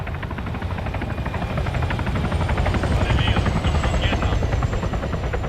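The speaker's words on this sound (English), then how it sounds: "You hear that? Sounds like a helo." A helicopter passes overhead in the Arma 3 military game, its rotor chopping loud and steady throughout and swelling slightly midway as it comes closer, with faint voices underneath.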